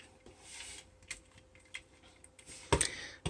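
An Alpha Trion AFT-07 Titanium Saints toy figure being folded into robot mode, with faint plastic clicks and taps scattered throughout and a louder clatter of parts near the end, close up.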